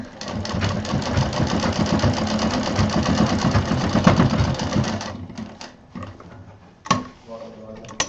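A sewing machine runs a steady, fast stitching burst for about five seconds while double-stitching the lining of a mobile pouch, then stops, leaving a few short clicks and handling noises.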